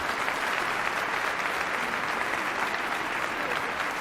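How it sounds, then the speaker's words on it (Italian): Steady, dense applause from a large crowd at a concert, loud and continuous throughout without pauses. "Applauso per Armando Caso."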